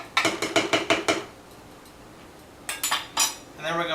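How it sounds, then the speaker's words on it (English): A spoon stirs a rosé wine and simple syrup sangria mixture in a glass pitcher, giving a quick burst of close, bright clinks, a quiet pause, then a few more clinks and scrapes. "Before we add our fruit, we're going to stir everything up, just to bring the flavors together here a little bit"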